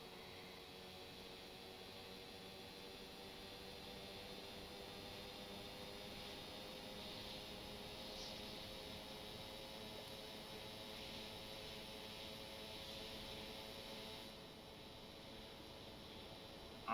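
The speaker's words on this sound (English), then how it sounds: "I love this helicopter. It just flies." Steady, even drone of a helicopter in flight in Stormworks, continuous and fairly faint, with constant tonal whine and rotor hum and no talking.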